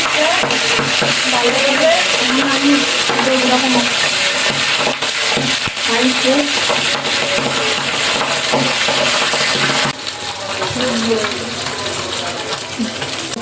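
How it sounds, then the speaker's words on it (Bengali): Pabda fish frying in oil in a pan: a loud, continuous sizzle and crackle runs throughout, with someone speaking over it. "এইভাবে মাছগুলো ভেজে নেবেন ভালো করে।"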